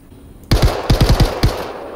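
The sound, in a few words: small pistol gunfire in the video game Star Citizen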